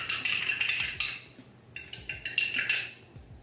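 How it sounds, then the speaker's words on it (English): Egg yolk and a tablespoon of milk whisked together for an apple pie egg wash, giving rapid bright clinking of a utensil against a bowl in quick bursts with brief pauses, close and fairly loud. "1 tablespoon of milk and 1 egg yolk mixed together"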